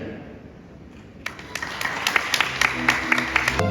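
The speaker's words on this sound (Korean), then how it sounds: "양가 어머니들께서 입장하실 때 내린 여러분께서는 따뜻한 박수를 보내주시면 감사하겠습니다" Wedding guests at the Central Park Hotel begin clapping as the mothers of both families enter. A quiet room gives way to rising, uneven applause with distinct nearby claps that build and continue to the end.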